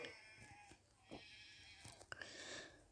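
Sheep bleating in a video game: faint, wavering bleats come through amid game noise and some muffled talking.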